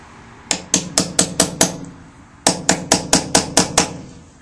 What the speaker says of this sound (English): I'm going to get a hammer.